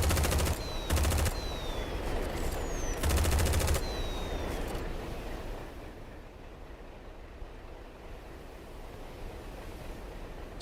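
Bursts of machine gun fire from a Centauri squad transport in the Silica video game, two loud rapid rattling volleys in the first few seconds, then a quieter rumbling ambience with scattered faint pops.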